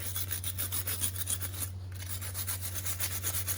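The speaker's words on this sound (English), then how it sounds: "Now it's still real grungy, so I just grab a wire brush." A wire brush scrubs grime off an LS ignition coil in quick, even back-and-forth rasping strokes, close and steady, with a constant low hum underneath.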